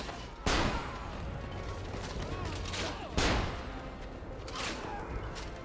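Gunfire booms in the video game Assassin's Creed Revelations, two heavy blasts a few seconds apart over a dense, constant wash of battle noise and crowd clamor.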